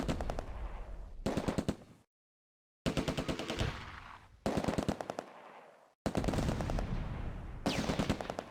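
Automatic weapons fire in the WWII strategy game Close Combat: A Bridge Too Far, set during Operation Market Garden. Loud, rapid machine-gun bursts repeat with a short silent gap and no talk.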